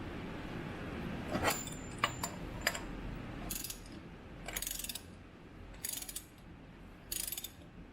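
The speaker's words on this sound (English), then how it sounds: "Don't mind the 6 teeth that this shitty wrench has." A ratchet wrench clicks in short bursts while turning a fastener on a 1958 Triumph engine during timing work, each burst a quick run of sharp, close metallic ticks separated by pauses.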